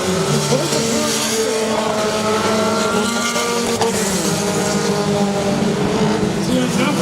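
Race cars lapping at Saratoga Speedway, a continuous loud engine roar with shifting drones, the field including a small 4-cylinder car, under steady commentary.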